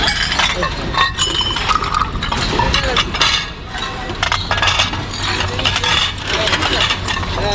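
Glass bottles and jars clink and knock together as items are rummaged through in a dumpster, with repeated scattered chinks and rattles over a steady background hum.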